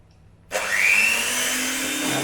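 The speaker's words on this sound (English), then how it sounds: "I'm going to beat these with the mixer until it thickens and it starts making peaks" An electric hand mixer switches on abruptly and whirs steadily, beating egg whites toward peaks for a cake, a loud close motor whine with a slight rise in pitch at the start.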